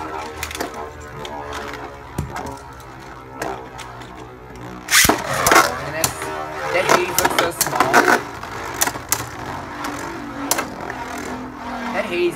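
A Dead Hades Beyblade is launched with a sharp ripcord zip, then the top whirs and clatters against the stadium, with a scattering of quick clicks and people talking throughout.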